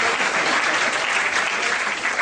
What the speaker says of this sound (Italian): Quindi ancora un grande applauso a loro